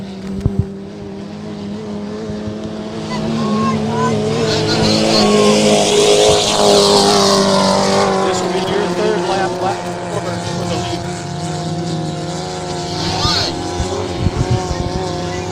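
An inboard racing boat roars across Belleville Lake in Michigan during a competition heat, its loud engine howl rising in pitch and swelling to a peak mid-clip before easing off, steady and close throughout.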